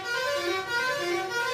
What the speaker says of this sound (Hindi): कोई बात नहीं, बस का हॉर्न है,